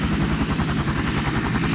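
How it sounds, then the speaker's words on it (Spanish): A Minecraft helicopter engine drones steadily with a rapid, pulsing rotor chop, loud and constant throughout, with no voices. "bájate del helicóptero"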